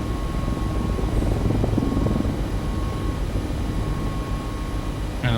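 A Mi-17 helicopter in the DCS flight simulator as the collective pitch changes: a steady, loud rotor and turbine drone with a faint tonal whine throughout.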